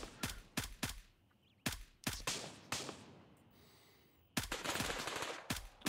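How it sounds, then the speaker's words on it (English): Gunfire in the video game Gray Zone Warfare: sharp rifle shots in quick bursts and single cracks, spread irregularly across the moment with a short lull before a dense fast volley. "Yeah, he's back to shooting."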